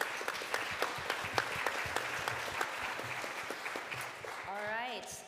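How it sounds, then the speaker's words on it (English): Audience applause at a restaurant food-waste solutions showcase: a dense crowd clapping with scattered sharper claps, moderately distant, while a voice talks over it and becomes clearer as the clapping fades at the end. "let's give him a round of applause"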